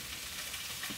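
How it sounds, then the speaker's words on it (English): Bacon, tomato and sausages fry together in a pan for a full English breakfast, a soft, continuous crackling sizzle, quiet and close, with no talking. "we're gonna throw our bacon, tomato, and sausages on the pan all at the same time"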